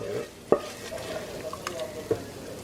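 A short burst of sizzling as hot baghar tempering hits beef paya broth, with a few sharp spoon stirs and pan clinks amid soft frying crackle.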